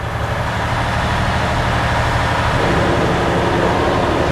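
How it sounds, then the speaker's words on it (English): A used semi truck's diesel engine runs steadily at close range with a loud, continuous rumble and no one talking. "So the last thing to do is to test the start the engine."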